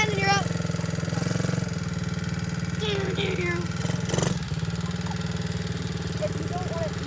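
A dirt bike engine idles steadily close by, a constant throbbing hum running throughout while people talk over it and a brief louder burst breaks in midway.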